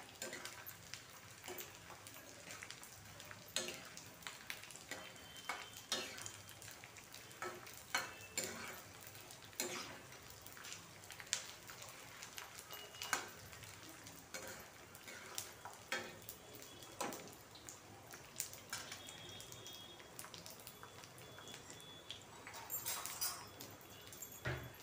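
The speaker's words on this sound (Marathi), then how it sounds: "चांगला भाजून घ्यायचा आहे डिंक." Edible gum pieces roasting in hot ghee give a steady low sizzle and frying crackle, with occasional stirring and utensil scrapes, faint and continuous throughout.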